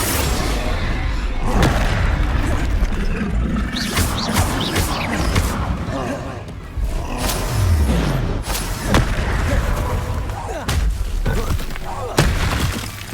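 Bombarda spells blasting in Hogwarts Legacy combat, a series of loud booming explosions with crashing, shattering debris, spread irregularly over busy battle noise and shouted voices.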